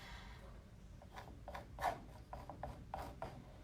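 A palette knife scrapes thick brown paint across a canvas in short, repeated rasping strokes, quiet and close, with brief pauses between each swipe.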